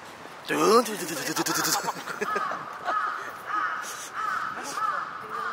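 Several crows caw repeatedly at moderate distance in Japan, harsh calls spaced irregularly over steady outdoor background noise.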